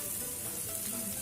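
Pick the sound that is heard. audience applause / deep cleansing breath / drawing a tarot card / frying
frying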